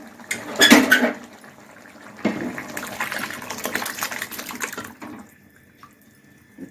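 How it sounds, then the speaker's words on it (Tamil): Cooked lentils (dal) are poured into a pot of mutton dalcha, giving a thick, wet splash and gurgle, then a steady, softer liquid pour that fades out. "இப்போ நம்ம வந்து வேக வச்சுக்கிற அந்த பருப்பு ஊற்றிக்கலாம்"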